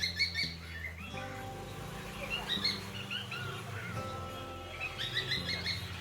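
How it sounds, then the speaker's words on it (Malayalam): Parrots in a pet shop that also keeps other birds and fish give repeated bright chirps and whistles in short bursts near the start and end, moderately close, with low-level background sound in between. "നല്ല നല്ല തത്ത"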